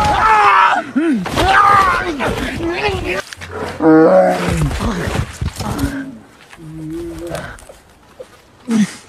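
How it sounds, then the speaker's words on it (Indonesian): A grizzly bear roars and growls in The Revenant, loud, guttural bellows and snarls close by, mixed with thuds and human groans and cries of a violent mauling. "Tak disangka, Hugh diserang oleh beruang grizzly dan hampir tewas"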